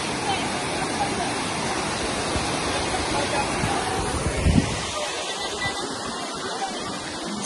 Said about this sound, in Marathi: छोटासा धबधबा भेटला